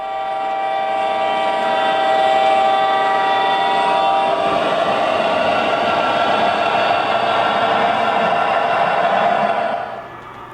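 An O gauge model Southern Pacific freight train rolls steadily downhill in a continuous loud rumble with faint rail clatter, fading slightly at the end.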